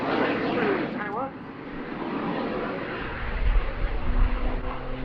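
Jet-powered Pitts aerobatic biplane climbing at the Duxford summer airshow, a loud continuous engine roar heard from a distance with rumbling low swells, under a commentator talking over a public address system.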